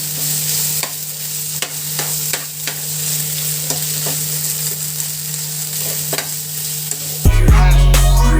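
An onion mixture for bread bonda is stirred and fried in a pan, a continuous sizzle with repeated sharp scrapes and taps of the spoon against the pan, then a louder clatter at the end.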